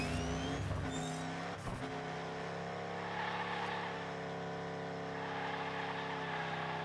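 Engine whine of a toy car racing along a custom Hot Wheels Unleashed track called CutCity Gravity on PlayStation, a steady buzzing drone with brief skids early on, loud and continuous.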